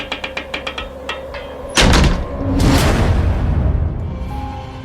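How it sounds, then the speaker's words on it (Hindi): Door sound effect for a spoken story, a series of light rhythmic knocks followed by a heavy thump and a long rumbling swoosh as the door swings shut, close and loud. "दरवाजा उसके सामने अपने आप धीरे धीरे बंद होता गया"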